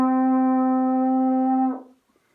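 A brass instrument played with a forced lip buzz: one sustained, bright, steady note held for about a second and a half, close and loud, then cut off abruptly.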